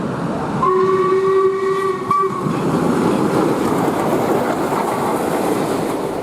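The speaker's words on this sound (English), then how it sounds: "That's the morning train." A steam train rumbles steadily past Killiecrankie station on the Highland Railway while a two-tone steam whistle blows for about two seconds, then the heavy chugging roll continues alone.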